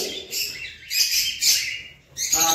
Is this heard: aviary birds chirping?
yes